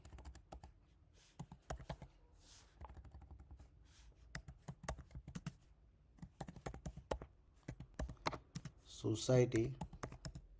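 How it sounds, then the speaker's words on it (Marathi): Rapid, irregular clicking of a computer keyboard as someone types a prompt to build a web app with AI. The keystrokes run near and steady beneath someone speaking throughout. "तर इथे तुम्हाला टाईप करायचं आहे."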